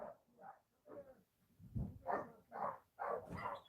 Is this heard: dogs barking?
yes